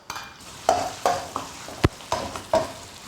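Sliced pork belly stir-fried in a wok with a little oil after the tofu has been fried out, giving a series of sharp stirring scrapes and clacks roughly every half second over a soft, steady sizzle.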